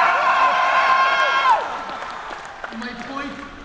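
A large keynote audience at PAX cheers and whoops loudly, with a swell of voices that drops off sharply after a moment and leaves a lower, scattered crowd murmur.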